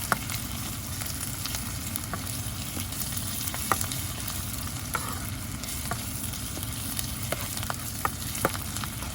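Chopped onions fry in oil over a high flame for chicken kondattam, a steady close sizzle with occasional scraping stirs and clicks of the spoon throughout.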